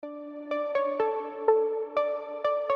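A pitched melodic sample for a melodic house drop, built in Ableton, plays a short run of plucked, bell-like notes over a sustained harmonic tone, about seven crisp attacks in an even rhythm, clear and up close.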